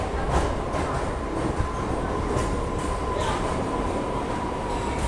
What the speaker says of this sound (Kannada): ಇದನ್ನೇ ಡಿಪಾರ್ಚರ್ ಆಗ್ತಾ ಇದೆ ನೋಡಿ ಹರಿಹರದಿಂದ.